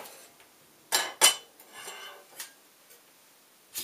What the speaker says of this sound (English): Let's get this lemon cut first.